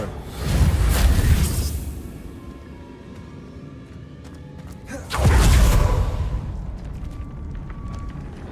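A Reparo repair spell in the video game Hogwarts Legacy: two swelling, whooshing magical surges with deep rumbling bursts, several seconds apart, each fading back into a low hum.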